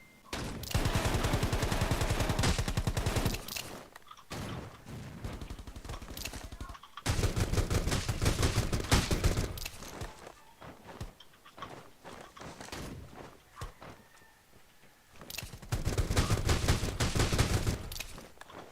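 Shotgun blasts in an online shooter game, several loud bursts of rapid gunfire separated by short pauses, close and dominant with no talk over them.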